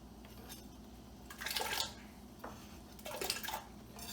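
Potatoes dropping into a pot of water while cooking borscht, giving two short bursts of splashing and clattering against the pot, close and fairly quiet, with a faint drip between them.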